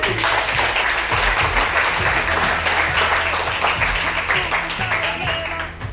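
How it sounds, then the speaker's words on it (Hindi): Applause from a class of students cheering top-ranked test scorers: dense, loud clapping filling the room, with a few sharper individual claps and faint background voices. "तो जोरदार तालियां"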